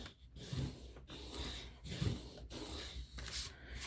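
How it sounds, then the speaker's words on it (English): A plastic glue bottle rubbed back and forth over paper on a handmade journal cover, producing soft, rhythmic scraping swishes about every half second, close and quiet, with no talking. "I rub back and forth with my glue bottle"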